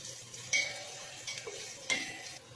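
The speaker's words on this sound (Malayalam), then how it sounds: "അടുത്തതായി നമുക്കിനി ഉള്ളി ഇട്ട് കൊടുക്കാം. ഇനി ഇതൊന്ന് ചെറിയതായിട്ടൊന്ന് വഴന്നു വരട്ടെ" Onion stirred in a pan for egg fried rice, with a quiet steady sizzle under a few sharp scrapes and clinks of a spoon against the pan, close and mostly soft.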